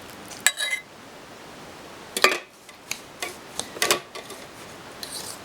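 Cookie crumbs being tossed with melted butter in a bowl: scattered clinks and scraping taps of a utensil against the bowl in short bursts separated by quiet gaps.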